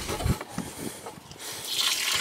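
Water drains from the full tank of a Roadtrek RV during bleach sanitizing, a steady splashing gush that swells into a brighter, hissing rush toward the end, with no voices.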